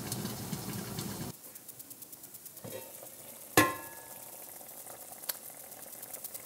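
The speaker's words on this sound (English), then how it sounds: "It's boiling nicely, not too much, and there's still enough of the liquid." German cabbage rolls simmering in a pot of liquid give off a soft, steady bubbling and gurgle at close range, with a sharp clatter partway through, likely a lid or utensil.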